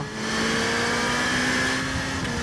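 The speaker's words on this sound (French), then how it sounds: "Allez, on se remet un petit coup de moteur." A modified Suzuki motorcycle engine holds a steady drone at high revs throughout, loud and close, with a slight rise in pitch partway through.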